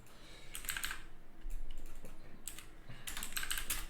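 Typing on a computer keyboard: bursts of quick key clicks in several clusters, close and fairly quiet, with short pauses between them and no speech.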